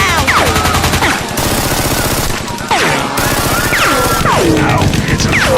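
Gunfire from an action scene in a Sonic audio drama: dense, rapid machine-gun bursts fill the clip, with brief breaks between volleys and swooping laser-like whistles layered over the shots.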